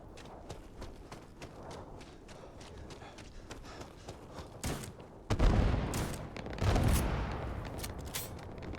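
Gunfire and explosions from a gun with wide explosive spread in the video game Starfield: rapid close shots through the first part, then two heavy, loud blasts with rumbling tails in the later seconds.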